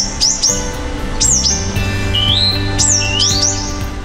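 Loud, clear eastern bristlebird calls: a series of sweeping, whistled phrases repeated several times over a steady background hum, close to the listener.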